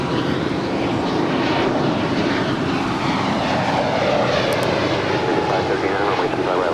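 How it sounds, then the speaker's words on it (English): Airbus A320neo departing Los Angeles LAX, a loud, steady broadband engine roar from the jet dominating throughout. "It's an A320neo. It's the next departure."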